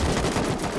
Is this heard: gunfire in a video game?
yes